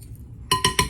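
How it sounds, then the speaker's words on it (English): Metal whisk clinking against a bowl while muffin dry ingredients are whisked together: three quick, bright, close taps after a quiet start, with no talking. "you're going to whisk that together"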